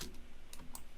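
A few computer keyboard keys pressed in quick succession, soft clicks heard close up with no talk.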